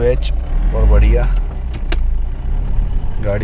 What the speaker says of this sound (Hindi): गाड़ी चालू हो गई है